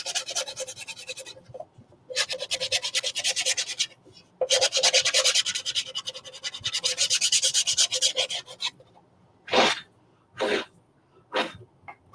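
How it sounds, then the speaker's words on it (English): A nail file rasps back and forth along the edge of a craft piece in several bursts of dry, scratchy rubbing, then gives a few short separate strokes, close up with no talk. "I'll just use one of my nail files. I'm just going to sand the edge of this."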